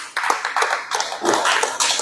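An audience claps in a church gathering, a short burst of brisk, uneven hand claps close by and fairly loud, with no voices over it.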